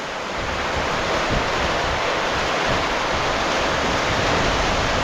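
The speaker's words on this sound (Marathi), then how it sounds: "आता भुतूर अच्छा पाऊस बघा काय खतरनाक आहे. मस्त वारा आणि पाऊस." Heavy rain and strong wind make a dense, steady roar throughout, loud and unbroken, with no voices over it.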